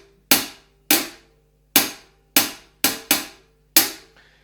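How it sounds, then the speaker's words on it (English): A drum kit is hit in seven sharp, separate strikes with uneven, irregular spacing, each decaying quickly; loud and close with no steady pulse. "A lot of drummers, when they start out, their timing is all over the place, and it sounds like this."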